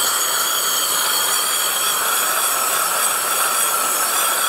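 A cryotherapy body sculpting machine gives off a steady, loud, breathy hiss of cold air, as if blasting from a nozzle. The rushing noise stays constant throughout, close and alone.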